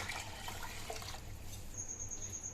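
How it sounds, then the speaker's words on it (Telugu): About two litres of water pour into a cooking pot for a trotters soup, a faint, continuous rushing splash that gradually settles into quieter trickling. "ఇప్పుడైతే మనం వాటర్ పోసుకున్నామండి"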